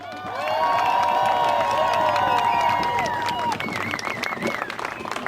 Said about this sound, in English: Give a round of applause for Sarah Rich